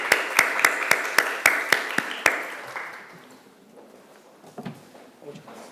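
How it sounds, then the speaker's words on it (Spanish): Slow, sparse clapping of about ten sharp, evenly spaced claps from a small audience at a human rights course session, fading into quiet room noise. "le recibimos con un fuerte aplauso."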